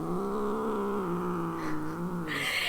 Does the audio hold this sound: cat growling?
yes